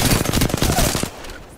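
Rapid automatic gunfire in Apex Legends, a close, loud burst of evenly spaced shots lasting about a second before cutting off.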